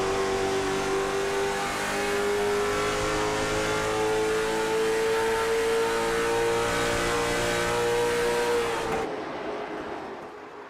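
Late model race cars at New Hampshire Speedway in iRacing, a steady loud engine drone holding high revs on the final lap, pitch slowly rising, then cutting off abruptly near the end.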